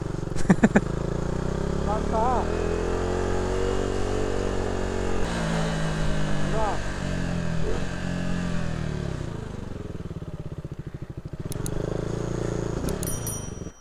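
A CF Moto SR 450 motorcycle engine runs close by, idling and rising in a few revs, with people talking over it.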